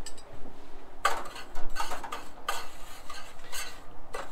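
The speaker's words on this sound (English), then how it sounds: "So we'll mix that up." A utensil stirs melted butter and brown sugar in a pan on a sailboat galley stove, with a few sharp scraping and clinking strokes over a faint low hum.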